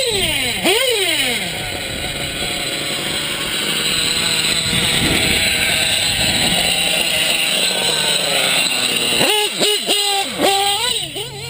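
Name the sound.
motorcycle revving through its aftermarket exhaust pipe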